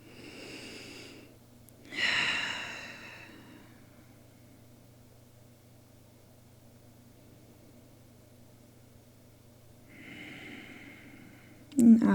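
Slow, deep breaths during a trauma-informed yoga practice: a few close, airy inhales and exhales spaced by long quiet pauses, with a sharper breath at the very end.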